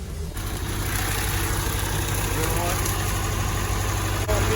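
A broken-down lorry's engine cranks over, catches and settles into a loud, steady idle, a close, continuous low rumble that holds throughout.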